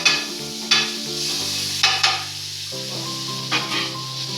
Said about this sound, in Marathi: तर मी आता एक चम्मच बटर टाकून घेते।